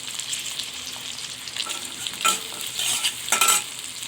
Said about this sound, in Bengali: একসাথে করে হালকা একটু ভেজে নেব।